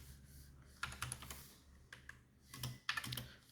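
Code is being typed on a computer keyboard, heard as close, faint clusters of irregular key clicks with short pauses between bursts and no talk.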